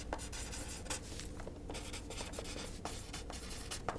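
A pen scratches across paper while someone writes a note, close up and soft. The strokes are short and uneven and run steadily with no talking.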